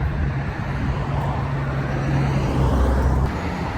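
Dense road traffic with many vehicles streaming past in a steady, continuous rumble and hiss that swells slightly toward the end, with no one speaking.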